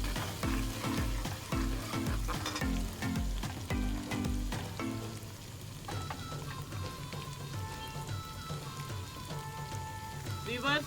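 Garlic and ginger paste frying in a pot for aloo gosht, stirred with a spoon, a loud dense sizzle with rhythmic scraping strokes that settles into a steady crackle.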